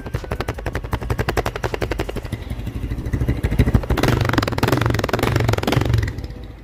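A 160 cc motorcycle with an aftermarket popping exhaust idles with rapid, staccato exhaust pops, then revs up into a louder, rougher roar before settling back down.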